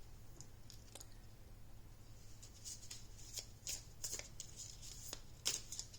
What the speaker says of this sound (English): Then we're going to get some oracle cards to clarify.